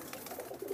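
Pigeons, kept Dubwale and kamagar breeds, give a short, soft, low coo close by with no voices.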